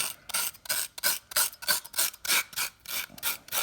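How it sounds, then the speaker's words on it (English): A fork scrapes strands out of a raw spaghetti squash in rapid, rhythmic rasping strokes, about a dozen close, dry scratches with short gaps between them and no talking. "now it's the important step is you gotta scrape this out with a fork"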